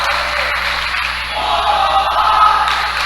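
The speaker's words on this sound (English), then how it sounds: "Yeah, the crowd is into it." Spectators cheer and clamor in a gym at a high school volleyball match between TWCA and Lutheran South, a steady broad crowd roar that swells slightly toward the end.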